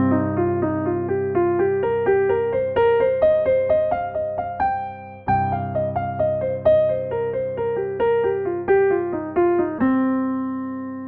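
Bright piano notes ripple up a pentatonic scale in steady eighth-note triplets, a brief break, then another rising run settling onto a sustained low chord.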